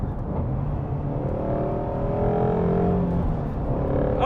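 A Ford Mustang Shelby GT350 with a flat-plane crank V8 revving up from inside the cabin, a loud rising engine note that climbs steadily through the gear before easing off at the end.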